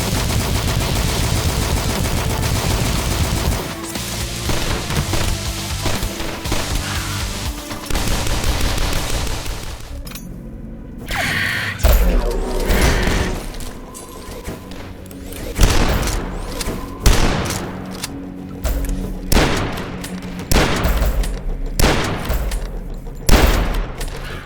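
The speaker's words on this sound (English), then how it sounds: "they all sound and look really good whenever you fire them" Weapons fire in the retro shooter DUSK: a long sustained burst of rapid gunfire, then a series of loud, separate booming shots spaced about a second apart, close and punchy.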